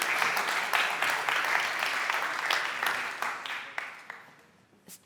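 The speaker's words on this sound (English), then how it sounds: "Give them a warm applause." Audience applause at a LERU 20th anniversary university conference, a loud, dense burst of clapping from many people that gradually thins and fades, with a few last scattered claps at the end.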